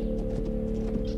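Steady hoofbeats clip-clop at an even pace over a low, constant hum, with no voices.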